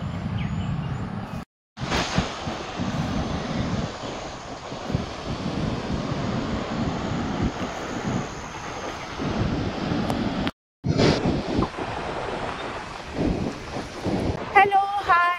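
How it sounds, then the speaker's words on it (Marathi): Sea surf at the village shore of Holi in Ratnagiri, Konkan, a steady broad wash of waves mixed with wind buffeting the microphone, close and loud, with two brief dropouts. "समुद्र दिसतंय मस्त."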